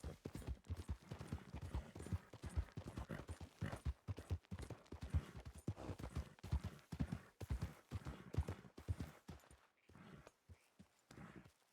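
Horse hooves clip-clop quickly and unevenly in a video game as the horse bolts in a panic from wolves, the hoofbeats near and fairly quiet, with no talk.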